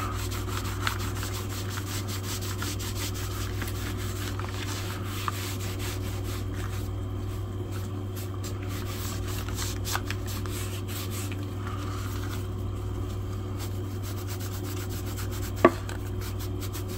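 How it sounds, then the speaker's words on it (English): A soft cloth buffs a restored J. Martini filet knife, making a steady, close rubbing hiss that continues unbroken, with a single sharp tap near the end and no talking. "Buffing that off there."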